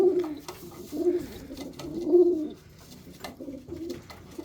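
Racing pigeons coo close by in repeated soft, throaty phrases with brief pauses between them, and no one speaks.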